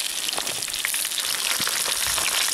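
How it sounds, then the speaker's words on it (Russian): Loud, dense sizzling of fresh taimen fish frying in hot oil in a pan, crackling and popping continuously up close. "И вот мы жарим свеженького таймишонка."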